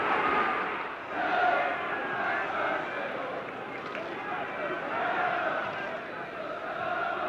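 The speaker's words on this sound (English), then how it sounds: "answering the catcalls of the Derby crowd as the players prepare to kick off" Derby football crowd before kick-off, a dense, moderately distant roar of catcalls and jeers holding steady throughout under commentary talk.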